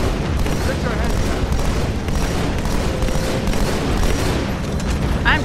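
Gunfire in the Halo 2 video game crackles in dense, continuous bursts with booming impacts, loud and layered over busy game noise.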